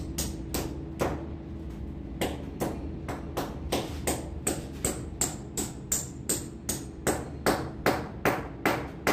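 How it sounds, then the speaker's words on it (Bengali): A hammer drives a ceiling fan hook into place, producing about twenty sharp metallic knocks that start irregular and settle into a steady, fast rhythm, close and clear with no talking. "টাইট করে নিলে এইটা বাড়ি দিলে কেমন জিনিসটা ভালোভাবে ঢুকবে"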